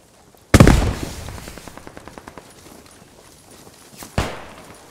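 Gunfire in the World War II shooter Post Scriptum: one loud, close shot opens, followed by a rapid fading burst of automatic fire, then a second sharp shot near the end. No voices are heard.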